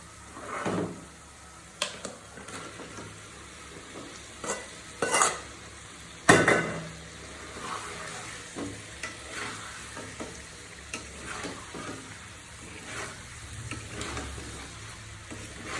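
Chicken pieces frying with spices in oil in a pan, heard as a steady sizzle broken by repeated scraping stirs and a few loud knocks of a spatula against the pan.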